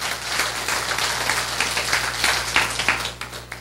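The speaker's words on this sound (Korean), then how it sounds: "우리 하나님께 영광의 박수 돌리겠습니다" Congregation applause during a Korean church leaders' camp service, a dense, continuous patter of many hands clapping for several seconds at moderate level, slightly distant in a hall.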